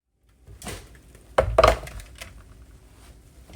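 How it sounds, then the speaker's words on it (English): A sheet pan of halved sweet potatoes slides into a 400-degree home oven: soft metal scrapes, then a sharp clatter of pan and rack, followed by fainter knocks as things settle. "this is gonna go in the oven until these are nice and soft"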